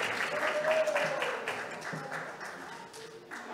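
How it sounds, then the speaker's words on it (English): Modest round of applause for a young performer at a holiday symphony recital, steady clapping from a small audience, faint and somewhat distant, with a voice speaking over it. "round of applause for Bruce Wayne."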